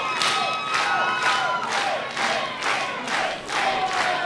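A wrestling event crowd cheers and shouts in waves, loud and close, with rhythmic swells of roaring voices rising and falling over a few seconds.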